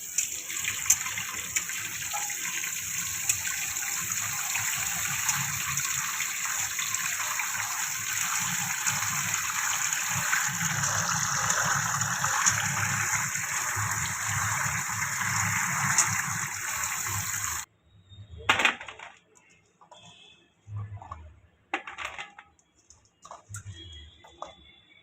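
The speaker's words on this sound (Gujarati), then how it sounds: "તો આપણે આ વાલોરને ધોઈ નાખીએ" Valor beans are washed under a running tap, a steady close gush of water for most of the time, then the flow stops and scattered clattering handling sounds of the wet beans follow.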